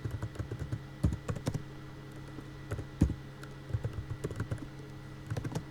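Quiet typing on a computer keyboard, with bursts of light key clicks separated by short pauses over a faint background hum.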